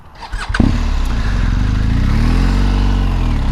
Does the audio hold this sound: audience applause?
no